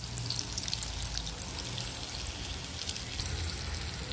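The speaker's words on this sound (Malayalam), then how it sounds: "നല്ല ബ്രൗൺ ആവണ വരെ ഒന്ന് വറുത്തെടുക്കാം" Sweet potato bread rolls deep-frying in hot oil until golden brown give off a steady, even sizzle with fine crackling bubbles, close by and continuous, with no voices.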